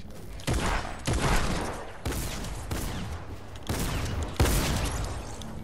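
Rapid bursts of spam-gun gunfire in the Fortnite video game, several loud fusillades spaced about a second apart with sharp onsets and short decaying tails.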